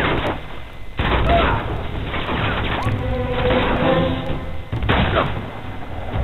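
Magnum pistol shots and combat noise in Uncharted 2: Among Thieves, loud dense bursts of gunfire and booms layered through the whole stretch, with several sharp onsets standing out above the continuous game mix.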